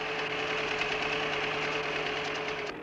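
A tractor engine runs steadily while pulling a laboratory tractor hitched to a plough on a test track, with a rhythmic mechanical knocking that holds at a constant level throughout.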